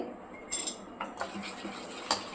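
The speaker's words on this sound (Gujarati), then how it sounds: "સરખું હલાવી દઈશું આપણે આમ" A spoon clinks against a bowl while stirring appam batter made of sabudana and moraiya with chili flakes and Eno. There are a few sharp, separate taps over a faint, quiet background.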